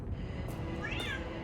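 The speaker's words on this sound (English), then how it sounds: "Oh, that's the cat." Muffin the cat lets out one brief rising meow against a constant low background hum during an Elite Dangerous gaming session, with no talking.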